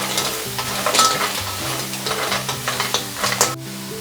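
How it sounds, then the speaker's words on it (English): Clams frying in a pan of black pepper being stirred, giving a steady sizzle broken by repeated scraping and clattering stirs, close and fairly loud throughout. "So give it a good stir."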